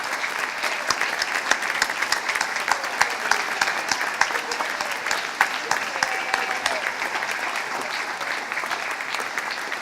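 Sustained applause from a gala audience, steady dense clapping that fills the room evenly from start to finish, close and moderately loud with no pauses.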